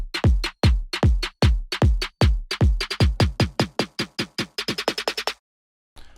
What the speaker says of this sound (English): the main two build sounds within this are this snare loop and this kick